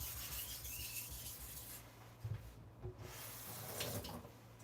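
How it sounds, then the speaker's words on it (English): A knife is sharpened on a stone, giving soft, quiet rubbing and scraping strokes with a wet, gritty texture, faint and close, with no talking. "Now I'm sharpening for a burr."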